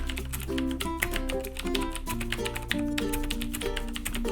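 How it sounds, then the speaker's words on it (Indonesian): A Logitech G610 Orion Blue mechanical keyboard being typed on rapidly, a dense stream of loud, crisp clicks heard up close and on their own, with no speech. "Dan sekarang saatnya kita tes suara dari keyboard ini."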